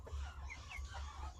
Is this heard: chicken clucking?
yes